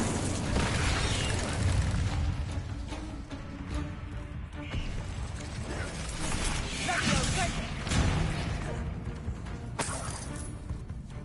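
Bombarda spell explosions in Hogwarts Legacy, a dense run of booming blasts and bursts with sharp cracks near the 10 and 11 second marks, loud and continuous against busy combat effects.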